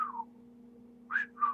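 A person whistles an imitation of a whippoorwill bird call, two short rising whistled phrases separated by a pause, close and clear over a faint steady hum.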